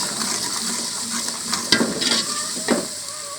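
A spoon stirring red chili into chickpea curry in a pot, over a steady sizzle of frying with a few sharp metallic clinks against the pot, close and moderately loud.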